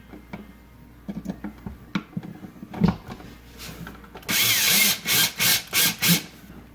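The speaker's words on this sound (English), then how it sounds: "And so now I'm going to use my cordless drill." A cordless drill driving screws into an electrical outlet cover, first in faint ticks and short bursts, then in loud, close whirring runs, four or five pulses in steady succession.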